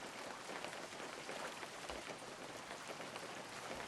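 Steady rainfall in the video game The Empty Kingdom, a soft, even hiss of drops with no breaks or voices over it.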